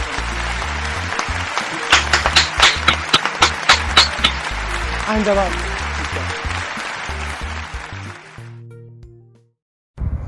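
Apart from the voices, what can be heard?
audience applause at graduation ceremony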